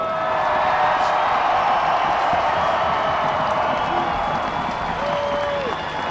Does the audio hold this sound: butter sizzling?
no